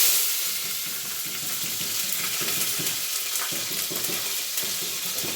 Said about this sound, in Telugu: బగారన్నంకి తాలింపు అయితే పెడుతున్నా అండి